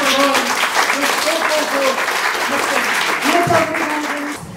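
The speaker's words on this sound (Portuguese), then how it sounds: "uma grande salva de palmas" A crowd at a talk event gives a big round of applause, steady dense clapping mixed with overlapping voices, fading slightly near the end.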